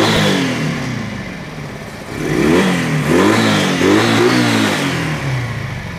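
A 2018 double-carburetor motorcycle in fresh condition idles, then revs up in rising and falling bursts, loud and close, with no voices.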